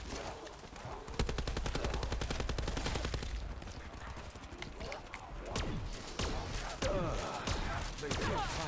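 Gunfire in Black Ops 4 Zombies on PC, rapid bursts of automatic shots rattling through a busy mix of game sounds, with a voice speaking at times.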